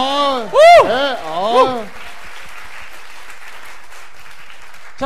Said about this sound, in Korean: 이 모든 분들께 감사의 박수 한번 부탁드리겠습니다